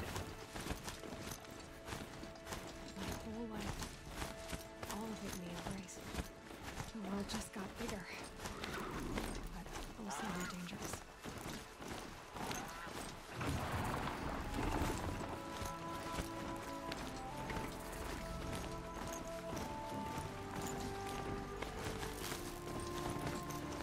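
Hooves thud rhythmically as a horse gallops in Horizon Zero Dawn, a long run of fast hoof beats under game music and a voice talking throughout.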